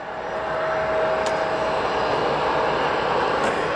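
An Air Wisconsin CRJ 200 jet arrives at O'Hare Airport, its engines a steady, moderately distant roar that swells slightly and holds throughout.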